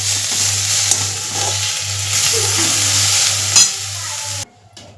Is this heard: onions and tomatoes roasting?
yes